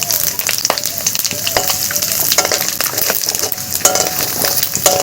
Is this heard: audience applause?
no